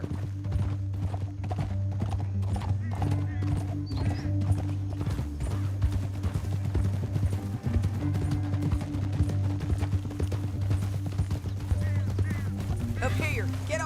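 Horses gallop in Red Dead Redemption 2 with a rapid, continuous clip-clop of hooves close by. The hoofbeats run under a bed of background game sound and faint voices.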